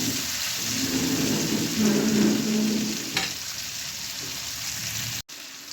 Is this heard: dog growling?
no